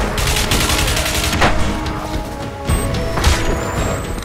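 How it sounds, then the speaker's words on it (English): Sniper fire and other gunshots ring out in the video game Crysis, with repeated booming shots and blasts over a dense, loud battle din. "Oh, there's snipers too."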